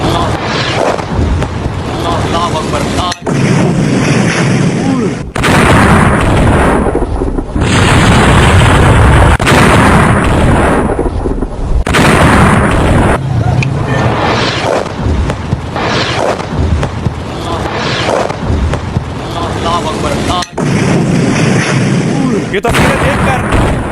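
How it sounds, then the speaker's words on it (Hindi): Continuous heavy rumbling and booming from repeated missile strikes in Pakistan, loud and dense throughout, with voices shouting underneath. "पाकिस्तान में एक के बाद एक आतंकियों के ठिकाने पर मिसाइल आकर गिरी"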